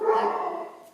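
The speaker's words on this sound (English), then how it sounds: "excuse my dog woofing" One short, close, fairly loud dog woof, a single bark with no other sound around it.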